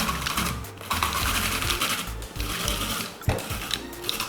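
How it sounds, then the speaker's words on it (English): A kitchen food processor runs nearby in loud, uneven pulses with a rattling, chopping mechanical whir and a sharp knock partway through. "make sure you have all the necessary things like this food processor"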